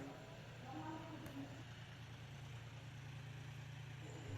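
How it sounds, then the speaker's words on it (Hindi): A tractor engine runs steadily while ploughing a field, a faint, low continuous rumble heard from a distance with no breaks. "ट्रैक्टर चल रहा है"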